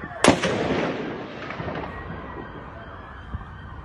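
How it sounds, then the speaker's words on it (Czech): A single sharp gunshot cracks outdoors on a Prague street, followed by a long rolling echo that fades off the surrounding buildings, with a faint second report near the end. "Je tam, bacha, střílí, bude střílet."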